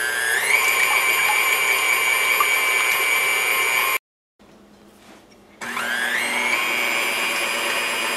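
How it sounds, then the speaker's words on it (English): An electric mixer whirs loudly and steadily while beating egg whites for a frosted sheet cake, cutting off abruptly for a quiet pause before the motor starts up again with a rising whine. "Once the eggs are separated, beat the egg whites first."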